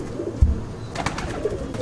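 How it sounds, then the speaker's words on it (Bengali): A black-eyed Madrasi pigeon coos nearby, with a low throaty coo and a few softer call notes over a quiet background. "এটা কালো দানা চোখের পায়রা"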